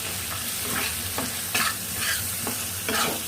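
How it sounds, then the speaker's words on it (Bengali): A thick spice paste for pangas fish bhuna fries in a pan while a spoon stirs it. Rhythmic scraping strokes come about every half second over a constant close sizzle. "মশলাটা যদি আপনি ভালো করে কষান তাহলে কিন্তু রান্নাটা অনেক ভালো হয়"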